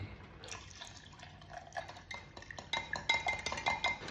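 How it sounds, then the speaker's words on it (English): Whole milk poured into a container while making air fryer Yorkshire puddings, a close, wet trickling and splashing with light clinks of the vessel, growing louder and busier toward the end, no talk. "I'm going to pour in some milk all the way to the top"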